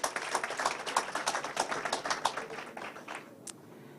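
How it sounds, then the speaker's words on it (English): A small audience at an agricultural awards ceremony claps for an award recipient, with sparse, distinct claps fading out after a few seconds. "can we have another round of applause for our first recipient?"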